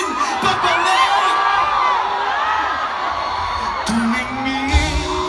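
A crowd at a live fiesta concert in Bugallon, Pangasinan shouting, whooping and cheering continuously, loud and dense, with a few bangs and a rising yell near the end.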